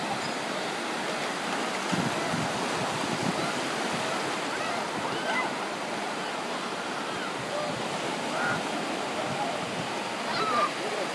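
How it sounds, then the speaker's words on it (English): Water splashes and churns steadily around a swimming dog, a continuous close rush with light wind noise throughout. "What type of swimming is that, Coco?"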